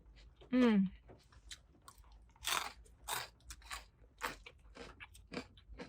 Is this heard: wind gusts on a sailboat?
no